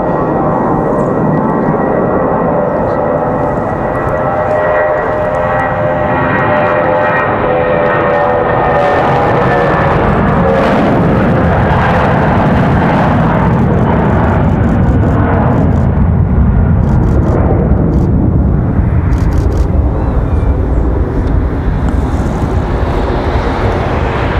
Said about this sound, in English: Gonna be a nice sounding departure out of this A320.